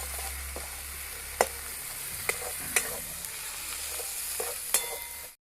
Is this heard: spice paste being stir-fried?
yes